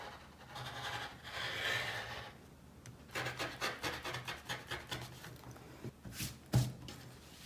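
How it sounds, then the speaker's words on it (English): Scissors cut fabric along drawn lines for a crop top: a soft rubbing start, then a rhythmic series of close snipping strokes, fairly quiet with no talk. "now I'm just going to cut out along my lines"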